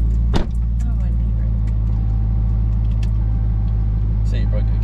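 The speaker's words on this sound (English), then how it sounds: "I hear that new engine" A car with a new engine runs with a steady, close low rumble that holds evenly throughout, and a brief sharp knock sounds near the start.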